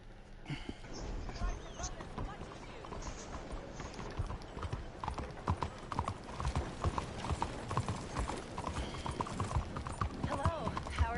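Horse hooves clip-clop steadily at a riding pace in the video game Dead by Daylight, a continuous rhythmic clatter running throughout with a voice talking over it.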